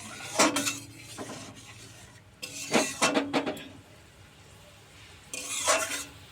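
Mustard paste is stirred in a pan with a spatula while fish curry is cooked, three clusters of rough scraping strokes over a low sizzle, close and clear, with no talk.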